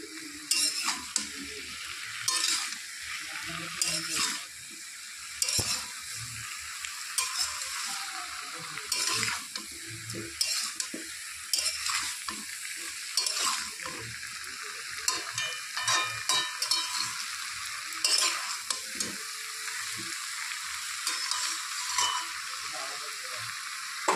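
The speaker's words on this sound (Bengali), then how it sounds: "একটু নেড়ে চেড়ে দেবো।" Sweet pumpkin and pumpkin greens cooking in a pan over medium heat hiss steadily while a spatula stirs them in repeated scraping strokes, close and continuous with no voices.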